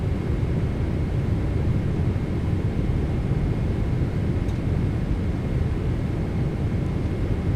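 Steady broadband roar of a PMDG 777-200ER airliner on arrival, using the Boris Audio Works soundpack in a flight simulator, an even, continuous engine and airflow rush with no voices.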